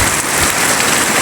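Heavy rain pours down steadily in a residential area, a dense, continuous broadband hiss of drops striking surfaces, loud and close throughout with no voices.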